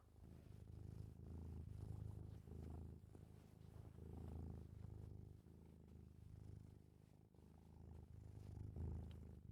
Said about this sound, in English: that's the sound of a cat purring